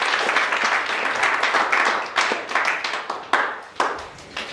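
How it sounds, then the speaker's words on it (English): Audience applause after a dissertation-preparation talk at a theological college: a steady round of hand clapping from a mid-sized crowd, fairly close, with individual claps standing out as it thins toward the end. "Give them a round of applause."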